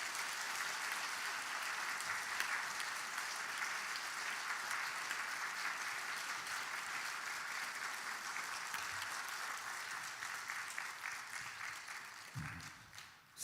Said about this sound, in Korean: 우리 목사님 박수로 축복하고 환영하도록 하겠습니다.